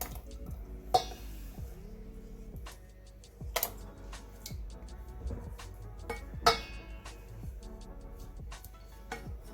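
A utensil clinks and scrapes against a bowl while lava cake batter is mixed, giving a series of irregular, fairly close taps and rings over a quiet background.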